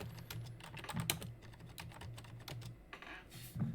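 Rapid keyboard typing, a steady run of close, crisp key clicks with a few louder taps, no voices.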